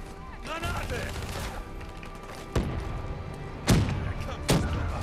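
Grenade explosions and gunfire from the video game Call of Duty: Black Ops 3, with sustained loud firing and three sharp blasts standing out, under continuous talk.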